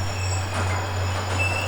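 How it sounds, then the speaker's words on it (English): A long train rolls through Stratford station with a steady low rumble and a faint squeal of wheels, heard at moderate distance without talk. "That was a long train."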